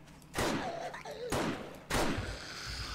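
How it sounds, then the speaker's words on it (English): Three gunshots fired in the 7 Days to Die video game, each a loud, sharp crack with a ringing tail, spaced roughly evenly about a second apart against a quiet background. "That was a waste of 3 bullets."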